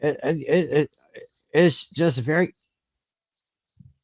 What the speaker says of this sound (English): I just heard a cricket chirping back there while you were walking.